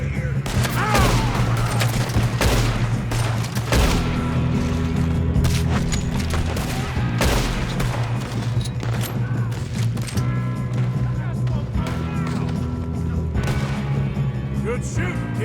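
Shootout gunfire in Red Dead Redemption 2, dense volleys of overlapping gunshots and booms going on without a break across the whole stretch, loud and close, with low music or rumble underneath.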